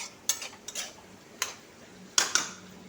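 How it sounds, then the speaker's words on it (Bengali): A lid set onto a cooking pot while cabbage cooks with fish head: a few sharp metallic clinks and taps, close and fairly quiet, spread over a few seconds with no talk. "আবার ঢাকনা দিয়ে দিচ্ছি।"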